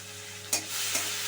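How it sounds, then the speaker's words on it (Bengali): Coconut paste frying with banana flower in a pan, a soft continuous sizzle interrupted by two brief scraping stir strokes, fairly quiet and close. "নারকেলের পেস্টটা দিলে একটু ভাজা ভাজা করে নিতে হবে"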